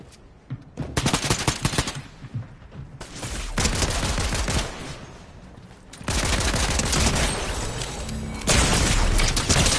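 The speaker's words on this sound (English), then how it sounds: "Hold on, I'm shooting this guy" Rapid bursts of automatic gunfire in a Fortnite match, loud and dense, coming in several sustained volleys with brief gaps between them.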